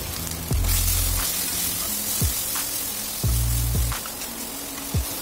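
Onion, ginger and garlic paste fries with turmeric and salt in a pan, a steady hiss with periodic scraping strokes of a spoon and low clunks against the pan.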